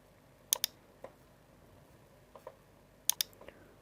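Scattered clicks of keys being typed on a computer keyboard, a few quick taps in two short bursts, faint and close against a quiet background.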